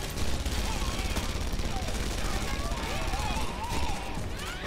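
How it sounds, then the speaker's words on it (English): Automatic turret gunfire in the video game Red Faction Guerrilla, a dense, unbroken rattle of rapid shots that carries on throughout, with voices mixed into the din. "is this the automatic fire of the turret?"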